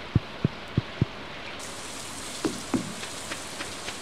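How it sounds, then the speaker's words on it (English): Rain falls in the Stardew Valley farming game, a soft hiss broken by a few distinct low drops and patters that come and go in a quiet, steady rhythm with no voices. "What the... is that sound? It's raining."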